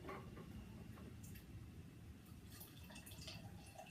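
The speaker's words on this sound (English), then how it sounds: "pour myself a nice pint" Homebrewed beer, a Woodford kit with Ringwood yeast, poured into a pint glass: a faint, continuous liquid gurgle and trickle with light splashy drips, quiet and close, with no talking over it.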